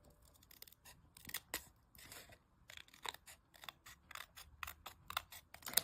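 Scissors snipping paper while trimming an edge for a small handmade tri-fold, many quick close crisp cuts in irregular bursts with short pauses between them.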